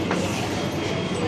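A steady, rumbling rush of a metro train in motion, with faint rhythmic clatter of wheels on track throughout.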